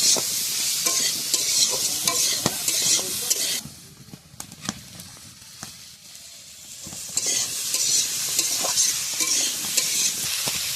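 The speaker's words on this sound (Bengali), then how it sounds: "পরিমাণ মতো লবণ পরিমাণ মতো হলুদ আবার একটু কষিয়ে নেব" Koi fish stir-fried in a pan with salt and turmeric gives a steady, loud sizzle, with repeated scraping stirring strokes. The frying briefly quiets in the middle and then rises again.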